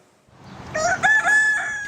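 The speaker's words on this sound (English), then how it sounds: "The roosters are too loud." Loud rooster crowing close by, one long cock-a-doodle-doo rising and holding steady with no other sound around it, in a rural setting.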